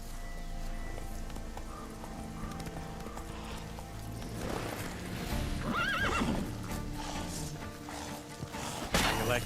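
Roach, the player's horse in The Witcher 3, whinnies and gallops with steady clip-clop hoofbeats under a dense game soundscape of music and ambience, a loud neigh rising midway.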